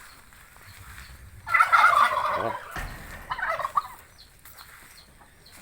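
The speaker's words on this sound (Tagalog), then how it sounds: "yan naman yung pabo" A turkey gobbles in a loud burst of rapid warbling calls, followed by a few shorter gobbles, with a brief human exclamation in between.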